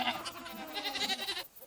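Goats bleat close by, big bucks at the front of the herd and nannies with young kids behind, giving a run of overlapping, wavering calls.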